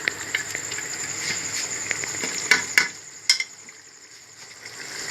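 Masala sizzling in ghee with meat for aloo gosht: a bright, hissing fry with stirring clatter and a few sharp scrapes, close and fairly loud, easing to a quieter simmer partway through.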